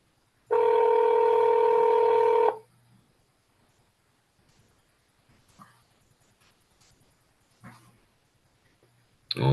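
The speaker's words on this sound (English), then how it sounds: "Mark Diaz don't got no voicemail." A telephone tone sounds loudly for about two seconds, then near silence follows with only faint, scattered background noises and a brief tone at the end.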